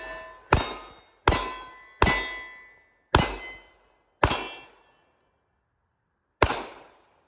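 A Walther P99 Final Edition pistol fires six sharp, loud shots, five in an uneven quick string and one after a pause, each ringing briefly into a decaying echo.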